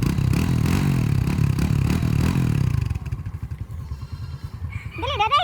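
A motorcycle engine roars steadily and loudly up close, then drops into a rapid chugging idle, with a voice briefly audible near the end.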